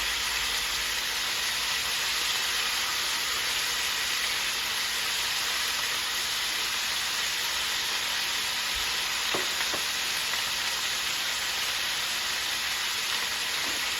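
Bite-size pork spare ribs sizzle steadily in an electric skillet, a dense, even frying hiss that runs alone throughout, with a couple of faint clicks partway through.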